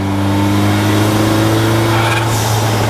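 A Ford EcoBoost-engined DeLorean holds a steady, throaty rumble close by, loud and continuous with a slight rise in pitch near the end.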